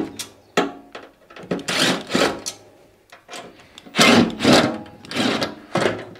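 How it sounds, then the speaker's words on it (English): A screwdriver works screws loose, top and bottom, on a compact tumble dryer, giving repeated close, scraping, ratcheting bursts of metal turning with short pauses between them. "Then undo the 3 screws, top and bottom."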